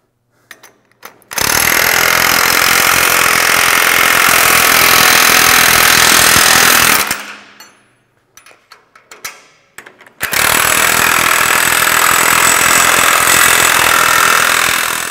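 A power impact wrench tightens track bolts on a side-by-side vehicle, running in a long loud hammering burst of about six seconds, then stopping with a few short taps and starting another sustained rattling run, close up.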